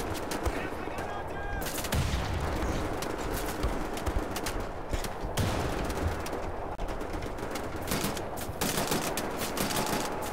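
Rapid gunfire in the first-person shooter Wolfenstein: The New Order, dense bursts of shots and impacts packed throughout, loud and close, with game noise behind.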